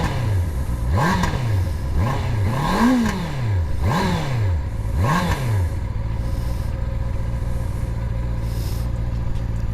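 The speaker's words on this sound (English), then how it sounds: "here we are with a CB650r stock exhaust." A 2021 Honda CB650R motorcycle with its stock exhaust revs four times in quick rising-and-falling sweeps, then settles into a steady, close idle.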